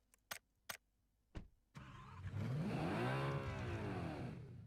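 A Bugatti car in the video game PUBG, with a few sharp clicks, then the engine cranks, catches and revs up into a loud, rising, sustained roar.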